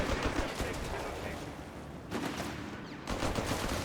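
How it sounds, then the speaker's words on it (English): MG15 machine gun fire in the Company of Heroes 3 video game: dense bursts of rapid gunfire that rattle over a busy battle din, with a brief lull midway before the shooting resumes. Speech is faintly audible underneath. "Fallschirmjäger already with the MG15."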